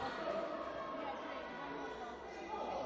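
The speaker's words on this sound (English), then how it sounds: "You can hear the fans still cheering for Keele." Basketball fans at a varsity game, Keele against Staffs, keep up a steady wash of crowd chatter and cheering throughout, fairly even and moderately loud with no single voice standing out.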